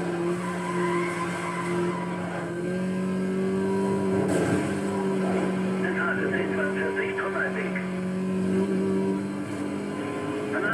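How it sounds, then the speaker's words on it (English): A car drifting in the Need for Speed Most Wanted racing game, with a steady droning engine and tire skid running throughout, a player's voice talking over it. "that drift! That was close to the wall."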